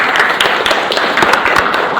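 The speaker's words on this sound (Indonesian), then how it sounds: "Tepuk tangan." Students applauding in a classroom, loud, dense clapping filling the whole two seconds without pause.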